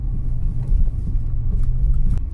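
A Mercedes G-Class rolls downhill off-road over dry ground with good grip, giving a steady, loud low engine rumble with slight surges and no voices.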